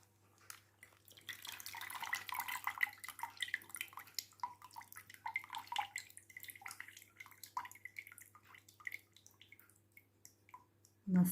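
Water drips and trickles from an orchid pot lifted after watering, a quiet run of small splashes and drops, ending with a soft knock as the pot is set down.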